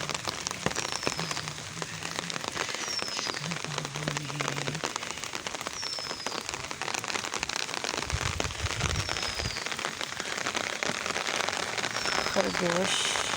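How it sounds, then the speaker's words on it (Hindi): Steady rain falls outdoors on a garden with plants and flowers, a dense continuous patter with drops crackling on surfaces throughout, while a voice talks intermittently over it. "बारिश हो रही है"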